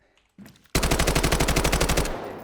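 Rapid automatic gunfire from a rifle in the Delta Force video game, a steady burst of about fifteen evenly spaced shots lasting under two seconds, loud and close, after a brief soft rustle.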